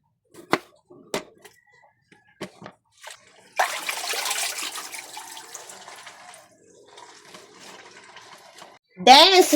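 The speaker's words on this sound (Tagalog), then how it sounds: "hugasan muna natin ang ating mga gulay" Vegetables are rinsed under a running kitchen tap, with a few sharp clicks and knocks first, then a steady gush of water that tapers to a trickle before a final loud splash.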